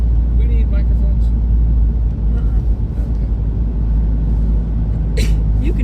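Cabin of a car driving in heavy holiday-weekend traffic in cold weather around Gatlinburg and Pigeon Forge, a steady loud low engine and road rumble throughout, with faint voices in the background.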